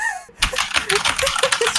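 Keyboard keys clatter in a quick run of sharp, close clicks after a brief pause, fairly loud, with no talking over them.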